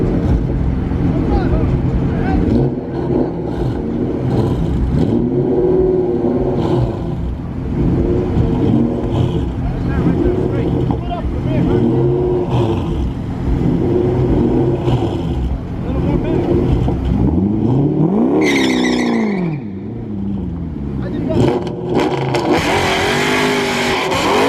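A Corvette and a Cobra racing, their loud engines roaring and revving continuously nearby, rising and falling with acceleration, while people talk and shout over the noise.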